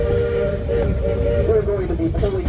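The Georgetown Loop railway train rumbles and clatters steadily as it pulls into a siding, with a sustained tonal squeal of wheels or whistle gliding downward over the heavy low rumble.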